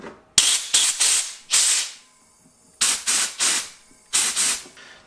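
Compressed air blasts through a freshly cut line on a Nissan 240SX S14 with an RB25 engine: short, loud hissing bursts in three clusters, each a run of two to four quick blasts separated by pauses, close and with no talk.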